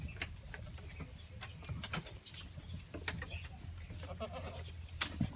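Local Khari goats in a low-cost goat shed in Nepal give faint, scattered bleats against quiet farmyard background noise, with occasional bird calls.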